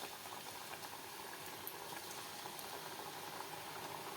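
Jowar vadas deep-frying in hot oil in a kadai, a quiet continuous bubbling sizzle with fine crackles and pops, steady and unbroken, no talk.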